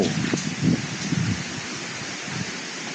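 Strong wind gusts at a tent campsite on Doi Samoe Dao, a Thai mountain: a steady, broad roaring rush with a few soft buffets near the start, close and loud throughout.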